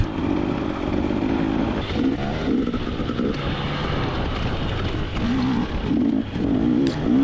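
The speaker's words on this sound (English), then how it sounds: "This is me up ahead in the black riding gear on my new KTM 250 EXC TBI." A KTM 250 EXC TBI two-stroke enduro dirt bike being ridden off-road, its engine droning and revving in waves with throttle blips, fairly close, along with wind noise.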